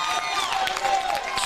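A crowd cheers at a boys' bowling championship final, a steady bright roar of voices with a commentator talking over it.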